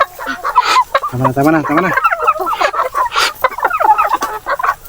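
Native chickens cluck and squawk up close in quick, uneven bursts, with a brief spoken word mixed in.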